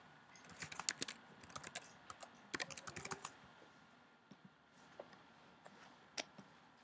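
Rapid bursts of clicking keystrokes on a computer keyboard enter a password, clustered in quick runs that thin out to a few isolated taps, quiet and close.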